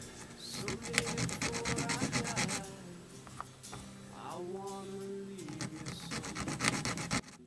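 Rasping file work on guitar bridge string slots, beveling the slot edges; steady close scraping strokes run through most of the stretch, with a brief quieter pause in the middle.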